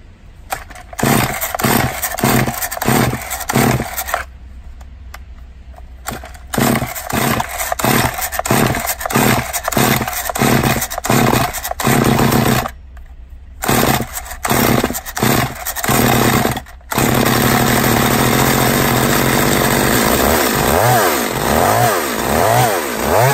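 Chainsaw that starts hard and won't hold idle, yanked repeatedly with short choppy bursts and cutouts, then catching and running at a loud sustained high roar near the mic.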